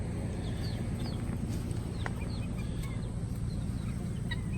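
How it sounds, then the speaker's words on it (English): Young guinea fowl roam a rural yard with rabbit colony pens, giving a few faint, scattered chattering calls over a steady outdoor background hiss. "there's a couple guineas running around here."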